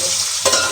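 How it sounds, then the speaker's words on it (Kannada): Tempering spices for egg saagu hit hot oil in a pan, giving a short, close burst of loud, hissing sizzle. "ಈ ಮೊಟ್ಟೆ ಸಾಗುಗೆ ಒಗ್ಗರಣೆ ಹಾಕ್ತವ್ರೆ"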